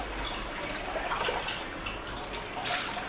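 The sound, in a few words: water draining from washed sorghum grains in a sieve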